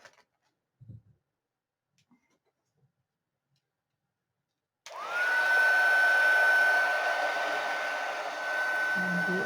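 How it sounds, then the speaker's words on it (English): A heat gun drying paint on a Halloween junk journal switches on after some faint handling clicks, then blows as a loud, steady whir with a thin whine, its pitch shifting slightly near the end. "I'm going to take the heat gun now"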